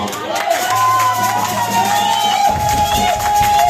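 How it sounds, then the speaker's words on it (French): A church congregation at a Sunday service cheers and shouts in acclaim, a loud crowd roar with overlapping voices, while a sustained tone runs under the early part and a burst of louder noise rises near the end. "Ça méritait quand même l'acclamation."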